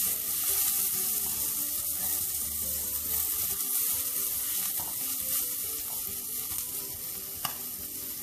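Biryani masala and spices sizzling in a pan for a paneer and vegetable biryani as they are mixed, a constant close frying hiss with soft stirring scrapes and one small tap near the end.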